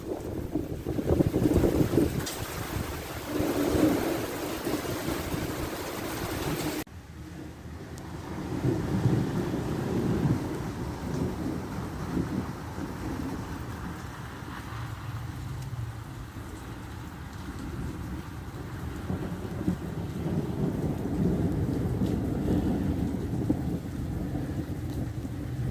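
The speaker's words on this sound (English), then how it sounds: "Thunder, lightning, heavy rain, heavy winds." A thunderstorm with heavy rain and strong wind buffeting the microphone, a steady loud roar broken by deep rumbles of thunder, with a sharp shift in the wash of noise partway through as the storm rolls past.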